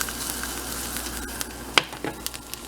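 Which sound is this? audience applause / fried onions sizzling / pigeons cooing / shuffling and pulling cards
fried onions sizzling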